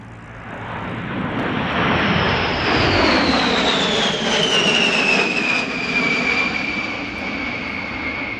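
B-52 bomber flying past at an airshow, a loud sustained jet-engine roar with a descending whine, steady and close throughout.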